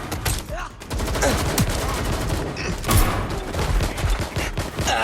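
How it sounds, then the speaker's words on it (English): Rapid gunfire from the video game Watch Dogs Legion, with dense bursts of overlapping shots rattling continuously throughout, loud and close. "Shots fired!"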